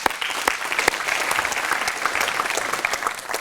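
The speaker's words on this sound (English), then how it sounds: "you all deserve a round of applause for that" A crowd applauds warmly, a dense, even clapping that holds steady for a few seconds.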